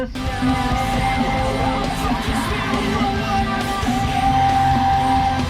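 Loud, dense mall screamo rock with harsh screamed vocals over distorted guitars and pounding drums, continuous throughout.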